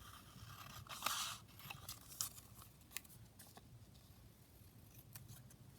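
Scissors snip through a book or magazine page for a junk journal, quiet close crunching cuts and paper scrapes in a few short bursts against a soft room background.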